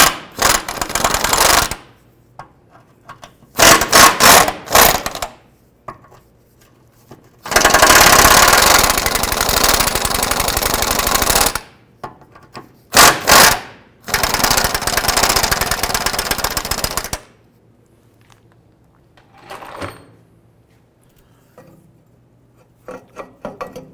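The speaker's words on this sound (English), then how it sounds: "I'm going to go ahead and loosen the other bolts on the other side" A power tool loosens driveshaft bolts on a 2005-10 Jeep Grand Cherokee, with loud harsh rattling bursts of a few seconds each, separated by short pauses and near silence.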